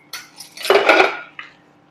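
Metal pressure cooker lid lifted off after cooking jackfruit, a few close clanks and a scraping metallic rattle of steel on steel, loud and brief with no talk.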